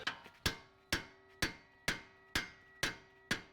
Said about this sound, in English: then we'll take our hammer on the end and hopefully we can lodge it loose